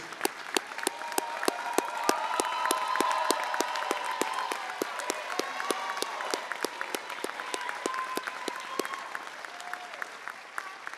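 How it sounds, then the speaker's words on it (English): Standing ovation at the Peninsula Regional Fire Academy 241 graduation ceremony in Virginia: a large crowd claps steadily for about eleven seconds, the dense applause swelling slightly and holding at an even level with sharp individual claps standing out. "If you guys look behind you, you got a standing ovation."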